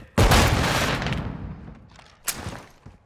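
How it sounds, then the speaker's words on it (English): A flash grenade in the shooter game Call of Duty: Modern Warfare II goes off in a loud, sharp burst that rings out and fades over about a second, followed by a second, smaller blast. "Throwing flash grenade."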